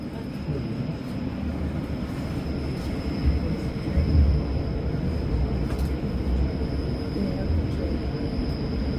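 A train crossing a bridge, heard as a steady, loud low rumble with rolling clatter and a slight surge midway, continuous throughout.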